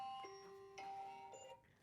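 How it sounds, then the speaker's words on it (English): A personal alarm chimes a few short, bright electronic tones in a quiet room, faint and spaced out over a couple of seconds, with no one speaking. "That was my alarm."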